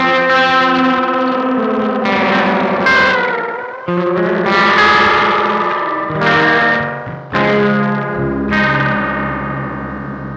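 Electric guitar through a delay effect whose delay time is swept by an LFO, from very short to as long as it goes, so the repeats smear and warble in pitch. Loud, dense, washy echoes with no voice.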